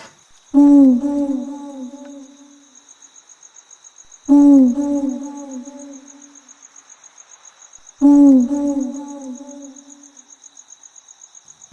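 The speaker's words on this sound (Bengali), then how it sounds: "হঠাৎ বাইরে একটা প্যাঁচা বিশ্রীভাবে ডেকে উঠল" An owl hoots three times at even intervals, loud and close, with a steady insect chirr running underneath.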